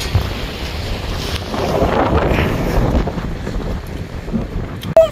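Strong wind buffets the microphone on a boat while fishing for halfbeak off Gadeok Island near a red lighthouse, a steady loud rush with low rumble throughout and a brief clatter near the end.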